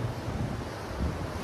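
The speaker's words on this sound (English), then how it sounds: "Kind of the way the waves are coming, that's because the wind is." Ocean waves roll in along the Los Angeles shore under steady wind buffeting the microphone, a continuous low rushing wash with no voices.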